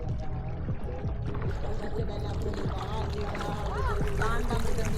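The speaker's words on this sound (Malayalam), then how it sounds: "കയാക്കും കൊണ്ട് വരുന്നുണ്ട്" A kayak paddles through water in Alappuzha, with splashing and dripping strokes and sloshing water under a constant background wash, while voices are faintly present.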